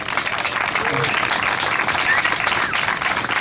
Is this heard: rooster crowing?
no